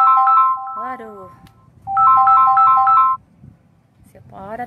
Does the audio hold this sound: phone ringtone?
yes